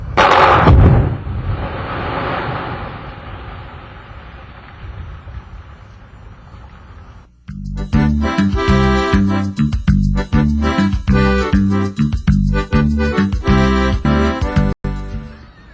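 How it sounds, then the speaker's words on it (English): A loud blast of chemical charges in drill holes, set off electrically, gives a heavy boom with rumbling debris that trails off over several seconds before music takes over. "Exploding of these chemicals in these drill holes occurs almost instantly when ignited by an electric charge"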